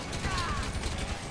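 A gun being reloaded in GTA 5 during a CEO VIP work mission: dense mechanical clicking and ratcheting over a busy, continuous backdrop of game noise and possible gunfire, lasting just over a second at steady loudness.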